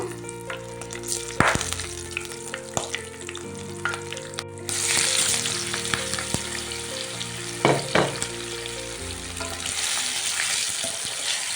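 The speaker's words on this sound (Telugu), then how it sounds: "ఆయిల్ వేడెక్కిందండి ఫస్ట్ కాకరకాయలు వేపుకుందాము ఇందులో" Steady sizzling of bitter gourd frying in hot oil, with occasional louder crackles and stirring clatter, close by and continuous throughout.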